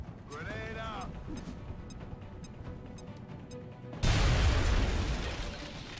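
A grenade blast in XCOM: Long War lands as a sudden loud burst of broad noise that decays over about two seconds, after a stretch of quieter game ambience with ticking, mechanical clicks and a brief rising tone.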